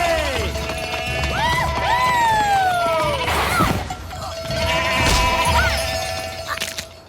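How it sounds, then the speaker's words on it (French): Goats bleating in a steep outdoor obstacle challenge, several wavering cries rising and falling close by, mixed with scuffling footsteps and bumps; a person talks briefly between the calls. "Oh, vous êtes de gentilles chèvres."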